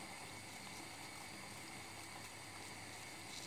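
Walnut membrane tea boils in a pot on the stove, giving a steady, continuous bubbling hiss with no talking over it.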